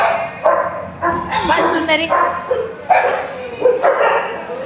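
A playful dog barks and yips repeatedly at close range in short bursts, mixed with overlapping human talk.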